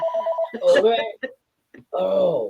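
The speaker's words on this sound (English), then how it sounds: "the phone would ring" A telephone rings briefly with a short, even trilling tone, then voices take over with an exclamation and talk.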